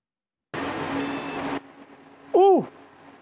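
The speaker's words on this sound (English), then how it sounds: "Oh, it made a beep." A 286 PC motherboard with battery damage whirs on for about a second, then a single short electronic beep sounds clearly from its speaker over a faint hum.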